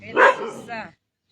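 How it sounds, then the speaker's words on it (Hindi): A dog barking at another dog lets out one loud, close bark that trails into a shorter whining yelp, then silence. "एक कुत्ते को देख करके भौंक रहा है।"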